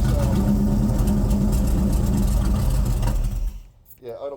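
A C3 Corvette V8 idles after a carburetor tune with a loud, rumbling steady idle close by, fading out near the end; a person talks over it briefly.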